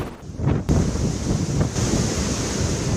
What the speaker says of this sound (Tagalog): Nagangalit din ang mataas na alon sa baybayin.